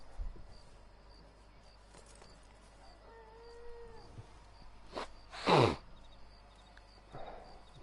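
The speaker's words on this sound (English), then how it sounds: "that was my nose. I was breathing in." A short, breathy sniff in through the nose stands out briefly and close against a quiet room, alongside a faint tonal sound and soft shuffling.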